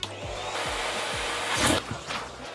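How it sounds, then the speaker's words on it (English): A corded vacuum cleaner runs with a steady whining roar, broken by a few short bumps and a louder surge near the end. "First of all, we have our corded vacuum cleaner."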